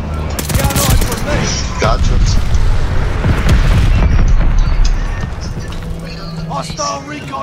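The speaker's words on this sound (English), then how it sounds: "friendly bombing run inbound" A bombing run in the online shooter Call of Duty: Vanguard brings a dense barrage of loud booms and rapid gunfire that rumbles on for several seconds, with in-game voices calling out over the blasts.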